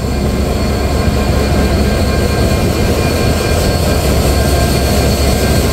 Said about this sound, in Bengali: আর আজকে আমাদের লোকোমোটিভ নাম্বার 6630, যেটা কিনা ডিজেল ইলেকট্রিক লোকোমোটিভ।